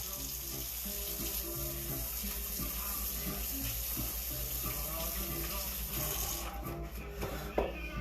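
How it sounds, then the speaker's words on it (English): Hands rinsed quickly under a running tap at a kitchen sink, a steady close stream of water that splashes and cuts off near the end, with faint background hum and no clear talk. "let me wash up my hands here for a second"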